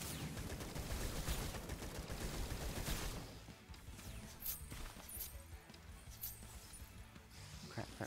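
Dense, continuous gunfire from a shooter in the video game Atomic Picnic, loud and busy for the first three seconds, then thinner bursts with sharp high cracks continuing over a lower bed of game noise.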